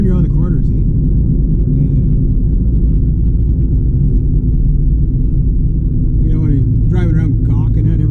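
A car drives along a road with a steady, loud low rumble of engine and tires throughout, while people talk over it.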